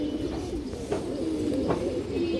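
A silver pigeon coos in a few soft, low, repeated calls close by, over a quiet background hum.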